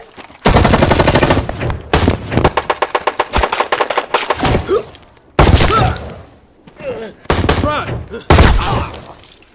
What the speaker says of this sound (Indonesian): tiba-tiba ada beberapa orang yang menyerang Tim 6 dari pegunungan yang membuat mereka terlibat adu tembak